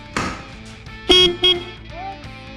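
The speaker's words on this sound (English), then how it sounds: "I think this is the horn wire, so we'll test that out real quick" A Jeep CJ7 car horn blares in two short, loud honks close by, the first slightly longer, with a brief clunk just before them.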